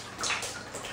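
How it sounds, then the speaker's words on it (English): Sewage water gushes out of a leak in a steady, loud rush, close by and alone for about a second. "That is a lot of water. It's coming out there."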